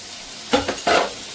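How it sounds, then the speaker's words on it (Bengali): Mutton curry frying in a pot, with two bursts of sizzling and scraping as the meat is stirred, close and fairly loud against a quiet kitchen background. "এবার মাটনটাকে কষতে অনেকটা সময় লাগবে, এটা ভালো করে কষা হোক।"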